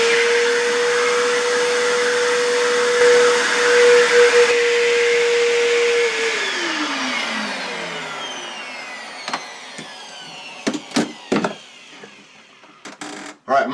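A vacuum cleaner drones loudly over an air conditioner return grate, then switches off and winds down, followed by scattered knocks and handling clatter.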